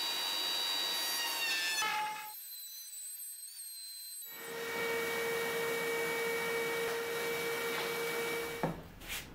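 Router table cutting edge banding strips of wood: a steady high-pitched whine with a grinding cut, broken by a couple of seconds of silence, then resuming and winding down near the end.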